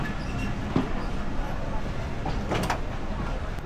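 A village mail train stands at Ghorakhali railway station, which has no platform, giving off a steady low rumble with a few metallic clanks, while voices murmur nearby.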